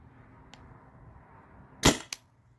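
A TCR riot ball launcher fires one sharp, loud shot near the end, with a smaller follow-up crack just after, against a quiet background with a faint click earlier.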